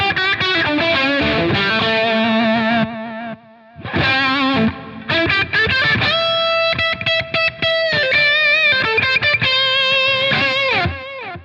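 Electric guitar run through a Line 6 Helix with delay and reverb, playing distorted, sustained lead phrases with echoing repeats and a brief drop in level around four seconds, loud and alone without talk.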